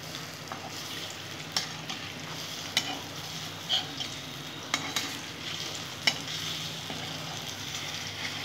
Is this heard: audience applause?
no